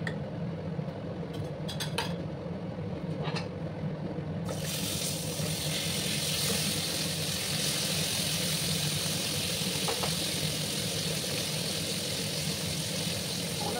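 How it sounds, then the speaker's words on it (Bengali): Cauliflower florets fry in mustard oil in a pan, a dense, steady hiss that swells up suddenly partway through and then holds loud and even, with no talking. "দিয়ে আমি ফুলকপিগুলোকে লাল লাল করে ভাজবো।"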